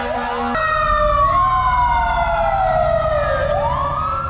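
Fire engine siren in downtown Los Angeles at night, a loud, close wail that sweeps down and rises again over a steady low road rumble, with a brief lower tone at the start.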